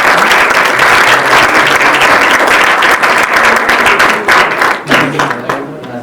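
Audience at a business conference in San Luis Potosí gives a loud, dense round of clapping after a talk, sustained for several seconds before thinning out toward the end.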